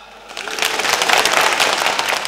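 Enthusiastic audience applause at a televised singing competition final, a dense clatter of clapping that swells from quiet to loud and holds steady, with no voices over it.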